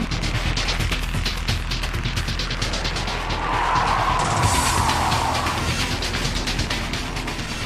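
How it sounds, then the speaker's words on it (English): Honda NSX-R race car spinning on a slippery Tsukuba Circuit track, loud engine noise with a rising tyre-scrub and skid hiss midway, steady and close. "the slippery condition of the track that day even sent Gansan for a little spin"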